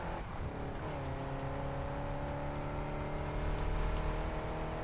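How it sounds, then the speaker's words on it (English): A tractor in the video game Satisfactory drives past with a loud, steady engine drone whose tone climbs slightly as it moves, continuous for the whole stretch. "I'm trying not to get hit by the tractor."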